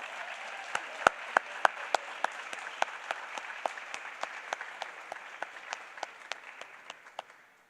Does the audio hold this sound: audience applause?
yes